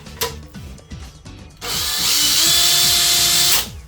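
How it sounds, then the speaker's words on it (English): A power drill bores into a wall during a toilet and enclosed cistern renovation, the motor whining loud and steady for about two seconds after a few quieter handling knocks and taps. "So now I can drill into these."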